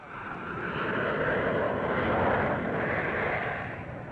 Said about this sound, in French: la caravelle d'Air France Nivernais n'a cessé de décoller, d'atterrir, d'évoluer à si basse altitude